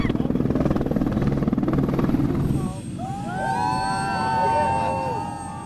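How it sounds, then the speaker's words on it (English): A helicopter carrying Santa comes in to land at a Christmas event in Quincy, its rotor thumping rapidly and loudly at first, then fading into a steady drone while a crowd murmurs and children's high voices call out. "I'm excited to see the Santa fall out of the, well, not fall out of the sky, land in a helicopter."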